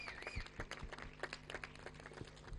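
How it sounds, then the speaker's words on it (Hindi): Scattered claps at an award ceremony welcome guests onto the stage; the sparse, fairly faint clapping sits over a steady low hum and sustained tones. "जोरदार तालियों से स्वागत करिए"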